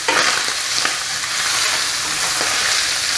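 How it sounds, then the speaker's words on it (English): Ground meat sizzles and crackles steadily in a hot pan after its water has evaporated, with a few scraping stirs cutting through the hiss. "our meat is already frying."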